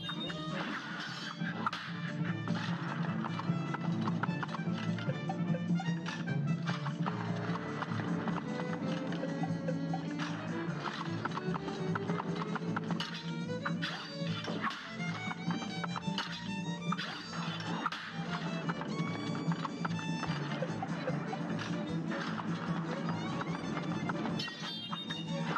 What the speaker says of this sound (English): That is not a happy horse.